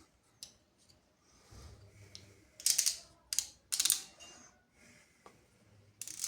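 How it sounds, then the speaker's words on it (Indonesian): Crimping pliers squeeze a connector onto a network cable. Three loud, crunching ratchet clamps sound close up, with quieter handling clicks before and after. "kencangkan menggunakan tang crimping"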